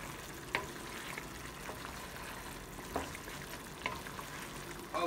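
Chicken adobo with vinegar sizzles and fries steadily in a pan while being stirred, with occasional louder scrapes and clinks of the utensil against the pan over the continuous hiss.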